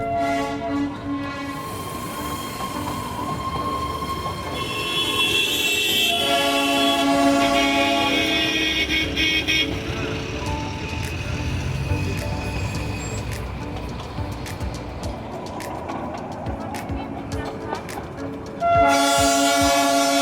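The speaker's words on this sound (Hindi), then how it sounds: "इस घूम स्टेशन पर भी लगभग 5 मिनट हमारी ट्रेन रुकने के बाद फिर से चल पड़ी दार्जिलिंग के ओर" Darjeeling Himalayan toy train pulling away from Ghum station, with a sustained rumble of rolling wagons and several loud horn blasts near the start and end.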